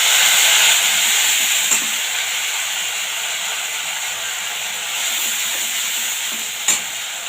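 Onion and ginger paste frying in hot oil for a potato and pointed gourd curry: a loud, steady, close sizzle with a bright hiss that carries evenly throughout, with no talking.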